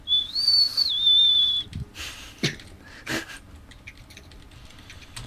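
A high, sustained two-tone boatswain's whistle warbles for about a second and a half, then gives way to scattered soft noises and breathy bursts.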